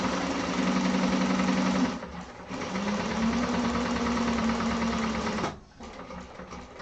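A sewing machine back stitching a satchel lining runs in steady, loud whirring bursts, pausing briefly near two seconds and again near five and a half seconds before resuming at a slightly quieter level.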